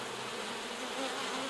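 A thick, steady drone of honey bees at an opened hive split crowded with drones, loud and close for a short moment without any talking.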